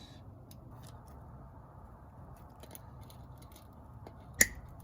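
A single sharp snip near the end as wire cutters cut through the auto shifter wiring harness under a car's dashboard during an automatic-to-manual conversion, preceded by quiet room hush and faint handling.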